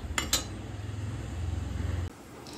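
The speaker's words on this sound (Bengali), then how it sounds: "ফোড়ন দিয়ে ভালোভাবে নাড়িয়ে নিচ্ছি" Whole cumin, cardamom and cinnamon tempering stirred in hot oil left over from frying potatoes: a couple of bright clinks, then close, steady rhythmic scraping and sizzle in the pan, with no talking.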